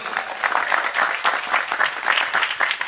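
An audience claps loudly and rapidly for a few seconds, a dense burst of applause from a close crowd at a religious talk.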